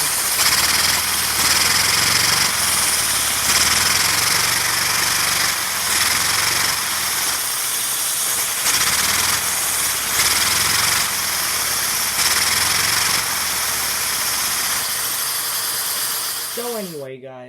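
LEGO inline two-cylinder vacuum engine running with one cylinder head removed: a loud, continuous hissing, airy whir with a faint rhythmic pulse, close to the microphone, ending in a brief rising whine as it slows.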